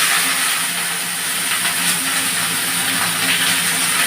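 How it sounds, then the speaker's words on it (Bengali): Okra lightly frying in hot oil in a pan, a loud, continuous dense sizzle and hiss close up with no pauses, and no talk over it. "এই ঢ্যাঁড়সগুলোকে ছেড়ে দিয়ে একটু হালকা ভেজে নেব"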